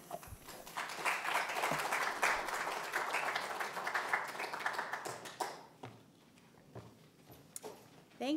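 Audience applause at a talk held at the National Archives, a steady wash of many hands clapping for about five seconds, then tapering into a few scattered claps and shuffling in a quiet hall.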